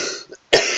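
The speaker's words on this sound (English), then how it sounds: "the cough's been getting worse" Two close coughs from a man, a short rough one followed after a brief pause by a louder, harsher cough that trails on.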